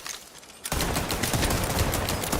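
Rapid repeater weapon fire in a video game starts abruptly after a short quiet moment, then rattles on loud and continuous as a dense stream of shots to the end.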